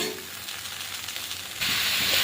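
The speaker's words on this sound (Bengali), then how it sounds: "তুলে নিয়ে এবারে শাকটা ভেজে নেব।" Kalmi greens (water spinach) hit hot oil in a pan, a soft steady hiss jumping abruptly into a louder, brighter sizzle partway through, close up with no talk.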